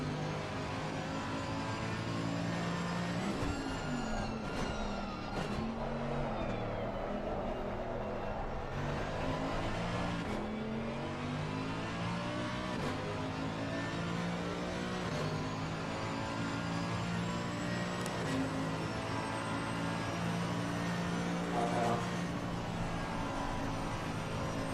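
Several GT race cars run an endurance event at Spa in Assetto Corsa Competizione, one of them a Mercedes-AMG, their engines a steady loud drone with shifting revs that keeps going without a break and no talk over it.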